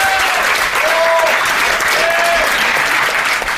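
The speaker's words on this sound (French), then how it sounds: "on peut l'applaudir." Loud, sustained applause from a live audience at a French tech podcast event, steady dense clapping filling the room with a few whistles above it.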